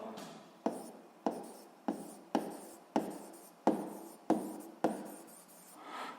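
Pen writing on paper up close, about nine brisk scratching strokes in a steady rhythm, each starting with a sharp tap and fading, quiet and isolated.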